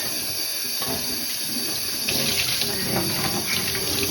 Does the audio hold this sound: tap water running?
yes